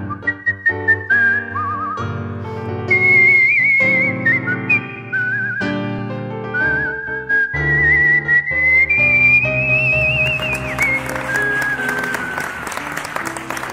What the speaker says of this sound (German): Der Kunstpfeifer.